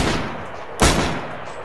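A single sharp gunshot from DayZ cracks out loud and close partway through, rising over steady ambient game noise with no talking.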